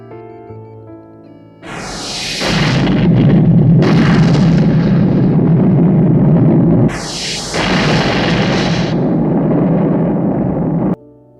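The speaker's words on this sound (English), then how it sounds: "the 2 nuclear submarines end up destroying themselves" Two massive explosions from nuclear submarines destroying each other in a Roger Moore–era James Bond film, each a sudden loud blast rolling into a long thundering roar, the second following a few seconds after the first, with no talk.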